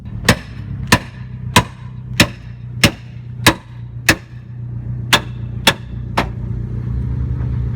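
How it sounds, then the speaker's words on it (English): A heavy sledgehammer slams into a car about ten times at Ebisu Circuit in Japan, in a steady, forceful rhythm, each blow a sharp loud metallic bang. "There's someone hitting a car with a very large sledgehammer."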